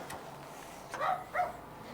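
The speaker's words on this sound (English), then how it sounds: "The neighbor's dogs are just noisy." Neighbor's dogs barking in the distance, two short muffled barks in quick succession over faint room noise.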